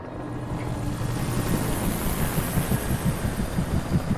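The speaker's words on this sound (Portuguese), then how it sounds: "tá helicóptero atrás de mim" A helicopter's throbbing rotor drones steadily at close range, a dense, continuous pulsing roar with no voices.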